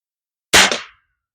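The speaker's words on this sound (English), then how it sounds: "Guess I hit that old DVD player based on sound." A Crosman Premier hollow point pellet from an air rifle striking an old DVD player, a single sharp smack with a brief ringing decay, heard alone.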